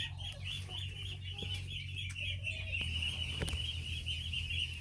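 Chickens cluck and chatter nearby over a low mechanical hum, with occasional clicks and knocks.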